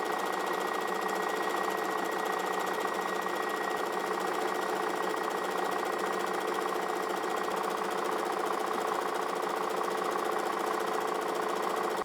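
A domestic sewing machine runs steadily while stitching a decorative scallop stitch, its fast, even motor whir and needle chatter continuous and close throughout, with no talking.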